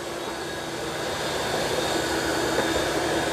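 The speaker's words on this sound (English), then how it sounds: "it's just vacuuming." A Eufy X8 Pro robot vacuum cleaner with self-empty station runs on carpet in vacuum-only mode, giving a steady, close whirring roar with a constant motor whine that swells slightly partway through.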